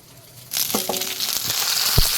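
A sudden burst of loud sizzling as something hits hot oil, continuing as a steady frying hiss with a few clinks.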